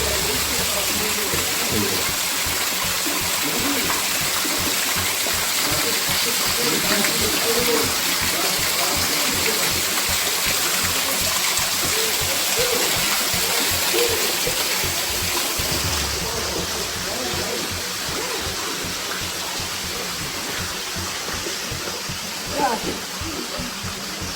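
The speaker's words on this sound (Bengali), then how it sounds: "এই জলটা পড়ছে, পড়ে এরম ভাবে কেভের সিস্টেমের মধ্যে কোথাও একটা চলে যাচ্ছে।" Water flows and falls inside a cave system in the Jaintia Hills near Cherrapunji, Meghalaya, making a steady, loud, broadband rush that continues unbroken throughout.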